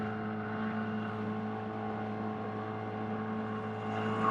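A new Yamaha outboard boat motor runs at a steady idle, a smooth, even hum with a clear droning tone, fairly quiet and unbroken, rising slightly at the very end, with no talking.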